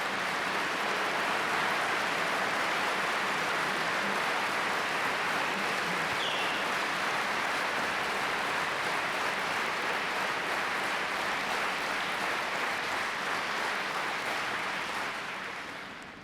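Sustained, dense audience applause at a testimony event for János Áder, President of the Republic of Hungary, a steady roar of many hands clapping with no talk, fading slightly at the very end.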